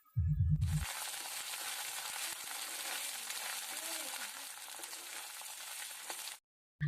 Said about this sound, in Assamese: আদা নহৰুৰ কেঁচা গোন্ধ নোযোৱালৈ আটাইখিনি ভালদৰে অলপ সময় ভাজি ল'ম